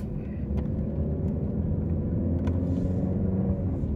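Car interior while driving, a steady low road rumble and engine drone throughout, even and continuous with faint ticks, no voices.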